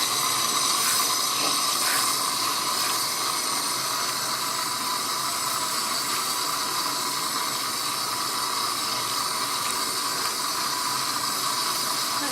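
Running water rinsing hair extensions under steady pressure, a continuous close hiss of spray with no breaks and no voices over it.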